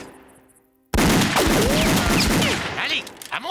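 Cartoon gunfire in a Lucky Luke western: after a quiet tonal lead-in, a sudden loud, dense burst of rapid shots erupts and continues, mixed with whistling ricochet-like sweeps and cartoon effects, thinning toward the end.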